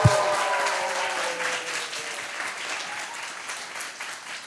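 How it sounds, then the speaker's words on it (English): Round of applause from an event audience, loud right from the start and holding steady as a dense wash of clapping for several seconds before easing slightly. "Please give everybody a big round of applause."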